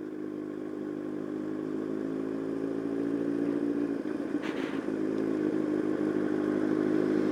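A Yamaha R1 sport motorcycle being ridden, its steady engine drone holding constant throughout with a brief clattering scrape partway through, close and fairly loud with no talking.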